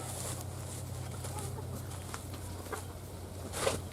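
Hens in a farm coop give soft, scattered clucks over a steady low background hum, faint and intermittent throughout with one slightly louder burst near the end.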